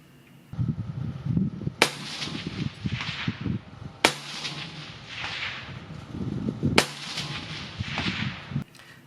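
Three sharp MK18 rifle shots ring out about two seconds apart at an outdoor range, each a loud crack followed by a brief ringing tail, with steady background noise between shots.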